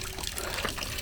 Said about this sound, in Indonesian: Dan di saung ini di dekatnya ada pancuran air.